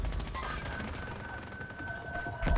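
Gunfire in Call of Duty, aimed at targets in the sky: dense, continuous rapid shooting with a rattling texture, loud and sustained, swelling slightly at the end.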